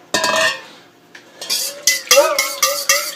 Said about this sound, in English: stir them in, make a big slurry of this